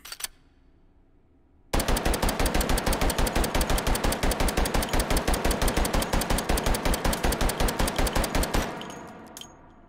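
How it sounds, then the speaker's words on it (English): A Vector submachine gun loaded with a drum magazine fires in VR, one long sustained burst of rapid, evenly spaced loud shots that runs for about seven seconds, then stops and leaves a brief clatter. "We can't believe we fired all that, but all the Vector 45 rounds work."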